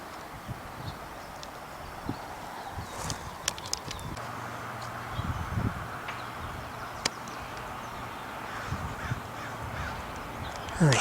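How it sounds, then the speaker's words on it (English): A gang of crows caws repeatedly on a springtime hillside, with scattered harsh calls near and far over outdoor ambience and occasional rustling steps. "There's whole crow gangs here."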